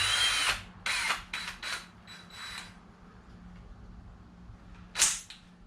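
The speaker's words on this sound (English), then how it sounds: "I'm gonna drill a bunch of tiny holes" Small power drill boring tiny holes into a van body during a conversion build, several short bursts of high whining drilling separated by pauses, close and fairly loud.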